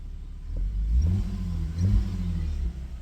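A BMW Z3 engine revs up twice, rising and falling in pitch with a deep, throaty rumble, fairly close.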